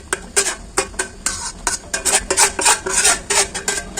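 Mango rice payesh, thickened rice pudding with mango added, stirred in a pot with a spoon in repeated close scraping strokes, a steady irregular rhythm of sticky swishes and light metal scrapes with no talking.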